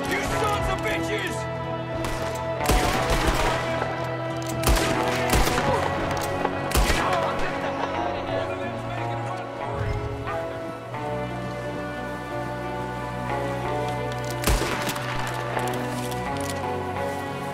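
Gunfire erupts in a Red Dead Redemption 2 shootout at a house: sharp, loud shots come in scattered bursts over a steady musical score, with several heavy volleys clustered early and another burst near the end.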